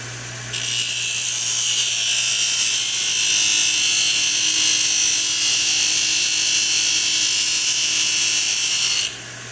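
A Norton RazorStar 10-inch expander wheel grinds steel with very fast material removal: a loud, steady, bright abrasive whine that starts abruptly, holds evenly for about nine seconds and then cuts off, over a low motor hum.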